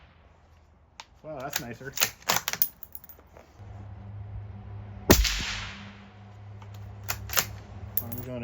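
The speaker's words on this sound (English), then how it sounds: "Silencer installed, first shot through the silencer." Shot from a 5.56 rifle through an Otter Creek Labs Polonium silencer, heard outdoors as one sharp suppressed crack with a short decaying tail. Clicks and handling noise come before it, and people talk around it.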